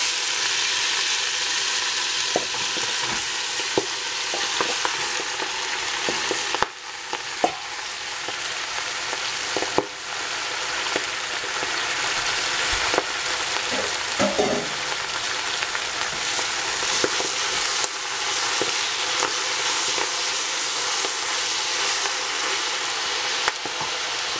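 Chinese broccoli and meat stir-fried in a hot pan give a steady loud sizzle throughout, with occasional clinks and scrapes of stirring and no voices.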